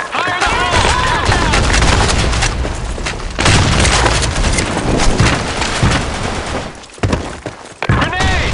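Loud, dense grenade blasts and sustained rifle and machine-gun fire from a firefight in the tactical shooter Insurgency: Sandstorm, booming bursts stacked almost continuously with brief shouted callouts mixed in.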